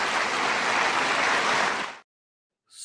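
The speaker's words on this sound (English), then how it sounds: "everybody's just clapping and cheering" An audience at a political speech on support for Ukraine breaks into dense, loud applause with cheering, a continuous roar of clapping for about two seconds that cuts off abruptly.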